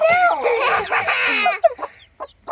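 Hens and chicks clucking up close, with a dense run of overlapping high chirps and clucks that gives way to a few scattered short peeps.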